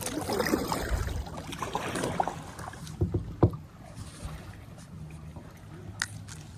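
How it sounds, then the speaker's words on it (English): A kayak on the Weeki Wachee River scraping and bumping against a tree, with scuffing rubs and a few sharp knocks up close, followed by quieter dripping water and light rustling. "Scraping a tree."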